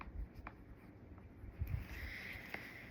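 Notes written by hand with a pen on paper, soft scratchy strokes and light taps that come in short bursts, close and quiet against a faint room hiss.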